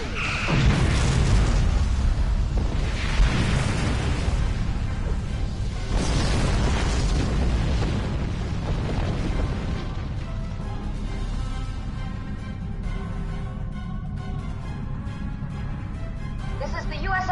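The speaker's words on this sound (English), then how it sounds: "Torpedoes away!" Heavy booming torpedo explosions from a Star Trek Online space battle roll continuously under game music and effects, loud and dense for the whole stretch, with deep rumbling bursts layered over one another.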